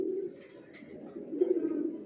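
Racer pigeons cooing close by, soft throaty coos at the start and again near the end with faint rustling between, no speech.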